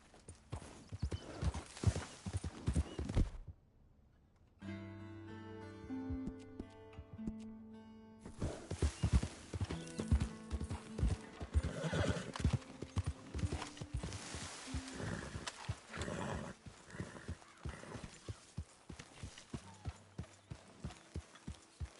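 In the video game Red Dead Redemption 2, hooves clip-clop in a steady rhythm, a horse whinnies with a sustained tonal neigh, and the galloping resumes, busy and close throughout.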